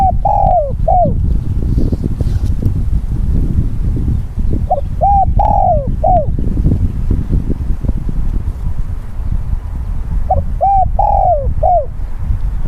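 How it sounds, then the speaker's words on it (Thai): A wild spotted dove coos in short repeated phrases, pausing between bursts, over a steady low rumble of wind or outdoor background noise. "เสียงนกป่านะครับ"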